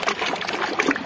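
Water trickles and splashes steadily over small toy cars as they are washed, a close, continuous wet burble with no talk.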